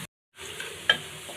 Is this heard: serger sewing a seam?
no